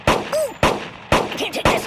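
Video game gunfire in loud separate bursts, about four sharp volleys spaced through the moment, with no talk over them.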